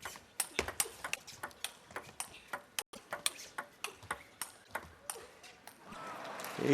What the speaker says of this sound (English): They avoid hearing the ball contact on the bat